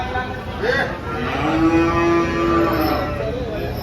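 At the Dhule cattle market, an HF cow lets out a single drawn-out moo, loud and close, over a steady background of market noise.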